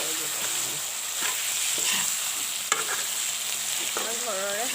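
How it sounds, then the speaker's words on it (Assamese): Vegetables and meat frying in hot oil with home-ground turmeric, a steady close sizzle broken by occasional stirring scrapes, with faint background voices. "এনেদৰে ভালেকণ সময় মই ভাজিলোঁ চব্জিখিনি মাংসখিনি"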